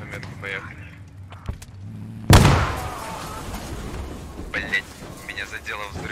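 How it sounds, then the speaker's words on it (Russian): A sudden loud explosion in a video game bursts in after chatter, then a rumbling roar that tails off while voices keep talking over game noise. "меня задело взрывом."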